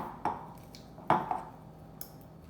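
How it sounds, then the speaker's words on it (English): A fork mixes goat cheese crepe filling in a bowl, giving a few distinct clinks and scrapes against the dish, close and fairly quiet, with no talking. "now we're just gonna get our fork and mix it all up"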